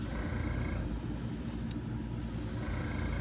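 Airbrush spraying paint onto a fishing popper bait, a steady soft hiss running continuously with one brief interruption, heard alone without talk.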